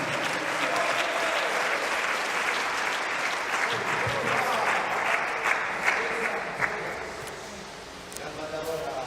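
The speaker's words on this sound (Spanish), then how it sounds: "No, si ya veo que poco aplauden con esto." A church congregation claps steadily in sustained applause during a sermon, a dense patter of many hands that swells slightly then tapers off near the end.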